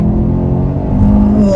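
A front-wheel-drive 2023 Kia Sorento EX launching at about one-third throttle in sport mode, its engine note rising loudly and steadily from close inside the cabin.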